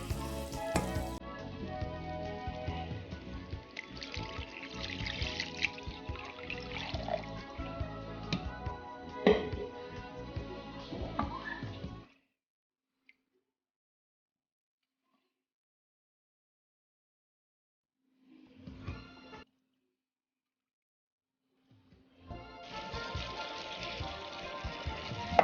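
Red wine simmering with onions in a pan, a busy crackling sizzle that cuts off into silence, briefly returns, then resumes near and steady.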